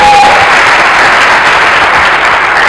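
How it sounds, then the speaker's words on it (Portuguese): A conference audience applauds speaker Bernardo Vilhena, a dense, loud wash of clapping that holds steady without pause across the whole stretch. "Uma salva de palmas para o Bernardo!"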